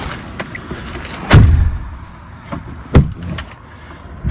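The rear door of a Ford Crown Victoria, with its inner door panel removed, is worked open, giving two loud mechanical clunks and a few lighter latch clicks at close range, with no talk.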